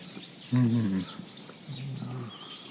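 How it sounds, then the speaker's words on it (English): Shrill, squeaky calls of brown-eared bulbuls, large gray birds, repeat through the air along a stone-lantern-lined shrine pathway in Kyoto, while a low voice sounds briefly twice underneath. "Lots of brown-eared bulbuls, which are a large gray bird"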